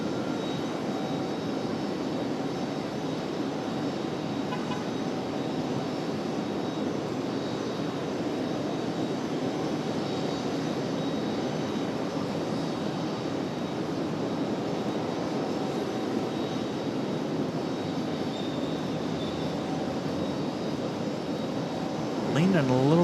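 A jet airliner arriving at Raleigh-Durham from Los Angeles gives a steady, even engine rumble and rush throughout, moderately loud and sustained, with a rising whine near the end.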